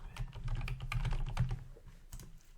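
Fingers type on a computer keyboard in a dense burst of close key clicks for about two seconds, then a few final taps, with a low hum underneath.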